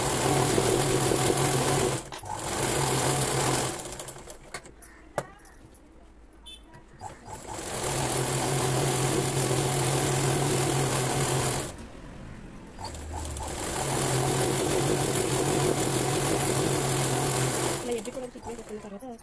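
A sewing machine stitches the folded cloth of a Punjabi dress bottom. There are three long, steady runs separated by short pauses filled with handling sounds, and someone speaks during the gaps.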